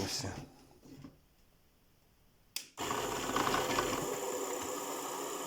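A homemade bench machine for making beehive frames runs at low voltage, a steady motor whir with faint rattle, preceded by a quieter stretch and a brief click.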